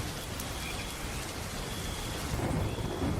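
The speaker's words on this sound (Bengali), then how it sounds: "বাইরে তখনও ঝুম বৃষ্টি পড়ছে।" Heavy, steady downpour in an animated night scene, a dense continuous hiss of rain with a faint low rumble of distant thunder, slightly louder toward the end, no voices.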